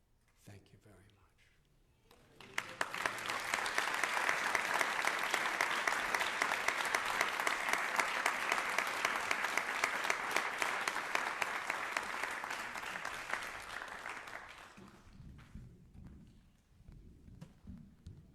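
Audience applause at an ISKCON New York fundraiser for His Holiness Radhanath Swami, swelling from quiet into a long, dense, steady roar of clapping that fades away, with a few scattered claps left at the end.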